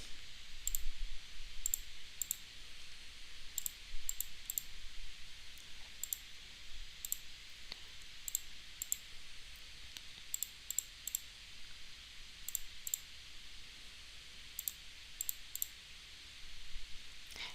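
Mouse and keyboard clicks while a value is typed into the Desmos graphing calculator, faint sharp ticks in small irregular clusters spread across a quiet room, with no talk over them.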